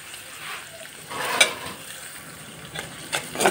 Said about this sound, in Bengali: আমি পেঁয়াজগুলো ভালো করে কষিয়ে নিব।